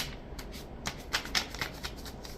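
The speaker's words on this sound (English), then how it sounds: "So we're gonna start off corner to corner folds." Paper being folded corner to corner into a square, a run of soft crisp creasing and rustling strokes, close and fairly quiet, several brisk swipes in quick succession with no talking.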